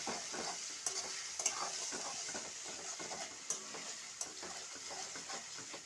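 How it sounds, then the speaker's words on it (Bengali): Ginger paste frying and being stirred in a pan with tomatoes, a steady close sizzle broken by repeated scraping strokes of a spoon against the pan, with no talking. "দিয়ে আদাটা ভেজে নেব।"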